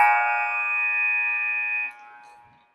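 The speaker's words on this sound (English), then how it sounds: "the buzzer will sound before they get a shot off" End-of-period buzzer at a youth peewee ice hockey game in Cloquet, Minnesota: one steady, sustained electronic tone held for about two seconds, then it cuts off and its echo fades out in the arena.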